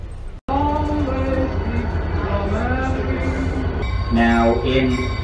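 A diesel-electric locomotive with a 2,250 horsepower turbocharged engine passing close by, a loud continuous low rumble with droning tonal engine notes that rise and fall, and a voice talking over it.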